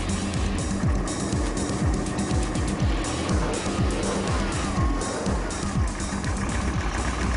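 A Factory Five '33 hot rod, freshly assembled in a garage, runs loudly just after catching on the first crank, its engine roaring close by with repeated revving sweeps throughout.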